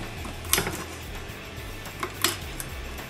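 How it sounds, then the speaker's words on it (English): A knife chopping asparagus on a board in a home kitchen, giving a few sharp knocks spread unevenly over a few seconds against a faint room background. "We're going to cut our asparagus."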